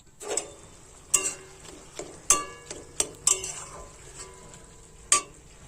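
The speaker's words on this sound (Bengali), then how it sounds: "এবার কিন্তু বারবার নাড়াচাড়া করে নেব লাউ প্রায় সেদ্ধ হয়ে এসেছে" A spatula stirs bottle gourd curry with river prawns in a pan, giving scattered close scrapes and metallic clinks over a soft, continuous sizzle, with no voices.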